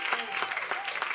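A stand-up comedy audience claps in a brief, continuous patter, a short burst of many hands with soft voices underneath.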